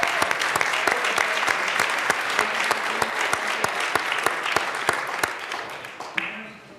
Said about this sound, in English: I think it's worth one more round of applause for our wonderful sergeants.